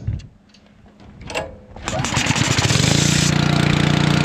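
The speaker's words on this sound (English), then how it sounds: "I've got my West Air compressor." A West Air compressor starts up after a few faint clicks and knocks, then settles into a loud, steady mechanical hum and rattle that continues to the end, close by with no talk over it.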